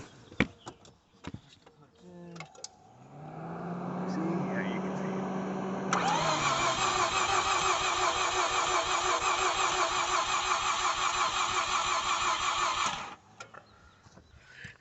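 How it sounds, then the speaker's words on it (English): A 1987 Mazda RX-7 FC3S Turbo 2 engine cranks over without firing, a steady mechanical starter whir lasting several seconds. It is close and fairly loud, cutting off abruptly near the end with quiet surroundings before and after. "I'm just gonna give you a brief representation of the cranking."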